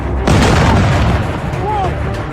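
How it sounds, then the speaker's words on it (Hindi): An explosion blast booms with a deep, wide rumble that swells suddenly and lingers as a long roaring tail, reported as a strike near a nuclear site in Israel. "धमाके हुए"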